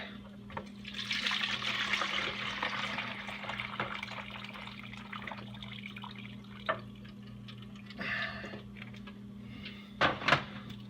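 Liquid poured out of a turkey roasting pan, a trickling, dribbling stream at first, then scattered drips, bumps and splashes against the pan.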